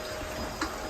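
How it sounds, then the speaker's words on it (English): Milk pours in a steady, continuous gush into a container for making yogurt, close and fairly loud with a faint splash near the end. "I just take the oldest milks and pour them in."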